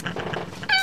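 A short, close meow from a cat, rising at the end into a brief high-pitched cry.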